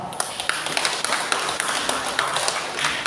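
Church congregation applauding, a continuous crackle of many hands with scattered louder claps, steady and fairly close, without a pause.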